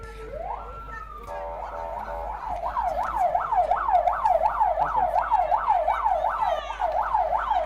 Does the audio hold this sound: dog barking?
no